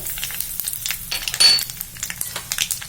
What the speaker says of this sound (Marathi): आता मी ही मोहरी घालते, गॅस थोडासा बारीक करते, उडदाची डाळ घालते, कढीपत्ता घालते